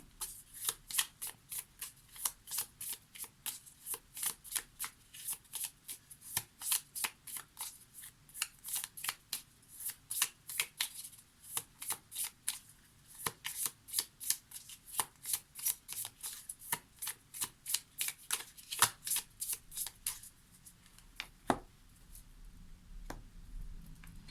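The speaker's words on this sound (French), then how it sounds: "Allez, on va prendre quelques cartes du Lenormand." Lenormand cards are shuffled by hand, giving a long run of quick, crisp riffling snaps in a steady rhythm that slows near the end. The sound is close and clear, with no voices.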